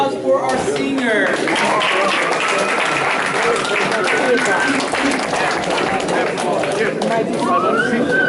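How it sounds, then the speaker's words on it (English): Audience applause fills a football awards banquet in a school setting, steady and loud clapping mixed with crowd chatter and cheering throughout. "if we can give a round of applause for our senior."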